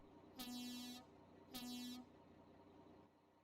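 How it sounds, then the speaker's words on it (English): Two long blasts of a truck air horn in the video game American Truck Simulator, each about half a second, separated by a short pause, fairly quiet against a low engine hum. "This is the air horn."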